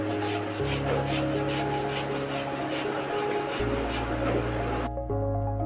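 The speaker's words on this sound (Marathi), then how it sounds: "हे बघू शकता, असं हे किसून घ्यायचं।" Boiled potatoes being grated by hand, a steady close rasping rub that runs continuously, over a low background hum with no talking.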